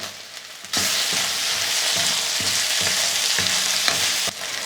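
Tomato dropped into hot frying oil with dry fish for a karuvadu thokku gravy sets off a sudden loud, steady sizzle with light stirring clicks, running strong before easing slightly at the end.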